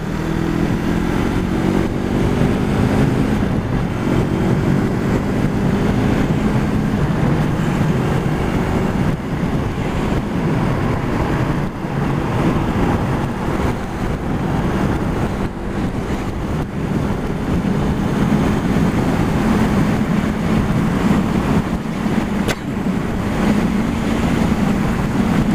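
A Yamaha MT03 motorcycle cruising at a steady 70 mph around 7,000 RPM on a motorway, its engine drone constant beneath heavy wind roar buffeting the microphone, loud and unbroken throughout.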